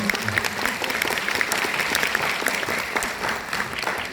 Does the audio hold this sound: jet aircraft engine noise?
no